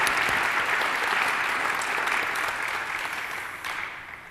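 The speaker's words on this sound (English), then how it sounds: "quick round of applause for the ladies before we move to questions" A conference audience claps for a panel of women entrepreneurs, giving a steady, moderately loud round of applause that fades slightly toward the end, with no talking over it.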